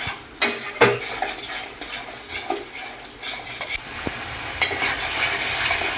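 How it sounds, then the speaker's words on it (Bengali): Spice paste for mutton curry is stirred in a pan with a metal spoon, sharp scrapes and clinks sounding at an uneven rhythm over a soft, steady sizzle. "এবার মশলাটা কষানো হবে মশলাটা আমি দশ থেকে পনেরো মিনিট ধরে কষাবো"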